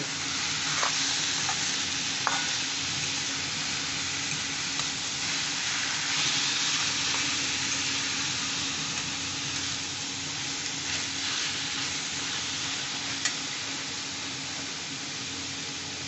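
Egg and pumpkin curry is stir-fried in a pan, a steady close sizzle with occasional spatula scrapes and clicks against the metal running throughout, no talking.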